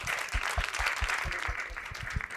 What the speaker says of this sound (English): Give a round of applause for him.